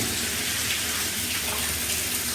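Water leaks from a hotel ceiling onto plastic sheeting near a lamp, making a constant broad rushing trickle that stays steady and close throughout without speech.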